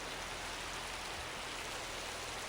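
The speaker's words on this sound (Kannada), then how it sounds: "ನಮ್ಮ ಕಡೆ ಮಳೆ ಸ್ವಲ್ಪನೂ ಬಿಟ್ಟೇ ಇಲ್ಲ." Steady rain falling outdoors around a house with areca saplings and coconut trees, an even, unbroken wash of hiss that holds the same level throughout, fairly faint, with no talking.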